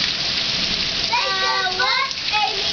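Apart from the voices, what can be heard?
rain falling during tornado storm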